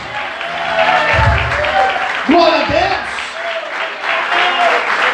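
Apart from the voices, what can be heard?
congregation applauding in church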